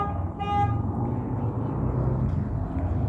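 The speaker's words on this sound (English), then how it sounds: "the specific one using his horn" A single short car horn toot sounds near the start amid low, steady traffic rumble on a city street, then the road noise carries on alone.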